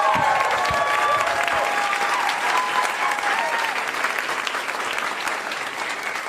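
A comedy club audience at a live stand-up show gives a full, steady round of applause with a few whoops mixed in, staying strong throughout and easing slightly toward the end.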